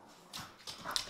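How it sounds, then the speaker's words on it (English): Several dogs whimper and yelp excitedly indoors, a string of short high whines and squeaks rising in quick succession, fairly faint. "Dogs are going crazy."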